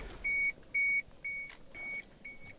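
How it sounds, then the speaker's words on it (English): The key-in-ignition warning of a 1993 Toyota Hiace Super Custom Limited turbo diesel van: five short, evenly spaced electronic beeps, clear and close in a quiet cabin. "take the key out so it doesn't beep at me"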